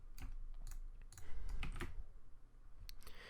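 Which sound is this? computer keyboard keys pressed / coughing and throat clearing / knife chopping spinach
computer keyboard keys pressed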